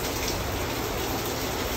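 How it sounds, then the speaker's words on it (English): Heavy rain pours steadily at a Sentosa beach resort in Singapore, a dense, unbroken hiss of downpour on surfaces, loud and close with no voices. "But it's raining, our last day in Singapore."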